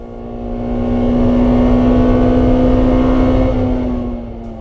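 Porsche Supercup race cars at Silverstone, a steady loud engine drone that swells in and fades away as the cars run close by on track, with no voices.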